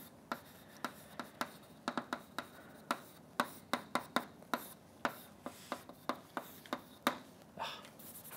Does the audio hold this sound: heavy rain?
no